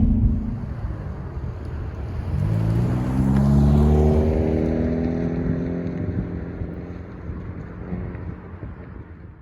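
A 2020 Hyundai Veloster N engine blips and rises in pitch as it rev-matches on a downshift, a loud swelling roar that peaks mid-clip and then slowly fades away.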